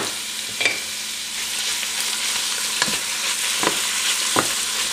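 Meat stir-frying in a pan for pancit canton, a loud continuous sizzle broken by occasional spatula scrapes and taps, heard up close with no voices.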